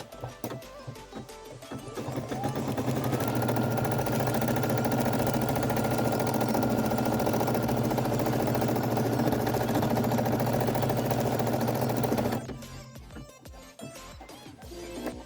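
A Brother SE 1900 embroidery machine stitches an applique placement line, spinning up after a couple of seconds into a steady mechanical whir for about ten seconds, then stopping.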